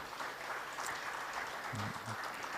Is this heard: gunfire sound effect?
no